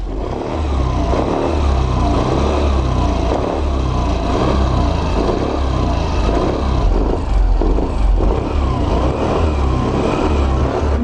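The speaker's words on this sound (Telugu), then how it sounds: "ఈ వెహికల్ యొక్క ఇంజన్ బీటింగ్ చెక్ చేద్దాం." A Suzuki Access 125 BS6 scooter engine idles and runs in a steady, smooth mid-pitched hum with slight pulsing, close and loud, with no voices over it.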